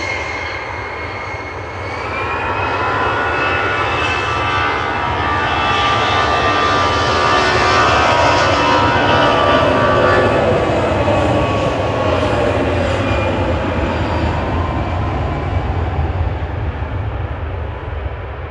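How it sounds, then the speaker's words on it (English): An EasyJet airliner rolls for takeoff at Manchester Airport toward Amsterdam, a steady, loud jet engine roar that swells after the first couple of seconds and holds, broadband and sustained, with no talking. "EasyJet's rolling to Amsterdam."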